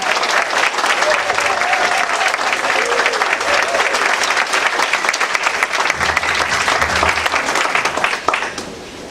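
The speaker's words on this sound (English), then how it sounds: "could I have a warm and loud applause for the first president of the Kingdom Youth Parliament, Jermaine Butler" A large audience at a 2014 Kingdom Youth Parliament event with a royal visit applauds warmly and loudly for the parliament's first president, a dense, sustained wash of clapping that holds steady before tapering off near the end.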